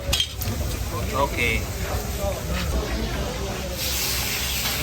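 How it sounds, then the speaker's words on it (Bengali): Hilsa fish frying in mustard oil, a steady loud hiss of hot oil that runs the whole time with faint clinks, while a voice speaks briefly over it. "আমাদের মাছ ভাজি চলছে"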